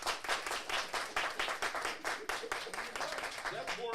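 A crowd at a Chicago show claps their hands in a dense, steady round of applause that fills the space, with a voice briefly heard near the end.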